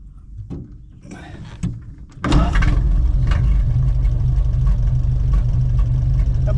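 A 1931 Ford Model A engine fitted with B-Banger parts cranks and catches at about two seconds, then settles into a loud, steady idle after a few door and handling thumps, no talking.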